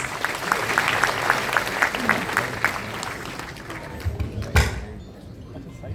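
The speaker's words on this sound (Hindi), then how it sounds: "आप सभी लोग हमारी बीकानेर की टीम के लिए जोरदार तालियां बजाएं प्लीज" Audience applause for a Bikaner team at a Rajasthan prize event, steady clapping through most of the clip, with one louder thump near the end before the sound fades.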